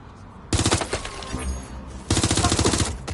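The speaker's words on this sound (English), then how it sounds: "That was a gun!" Bursts of rapid automatic gunfire in a video game set in London, two loud volleys of quick repeated shots separated by a quieter stretch of lingering echo and background noise.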